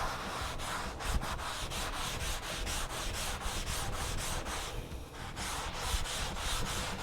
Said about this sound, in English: We're just wanting to really scrub this well. We're trying to get all the oil from the manufacturing process off of it.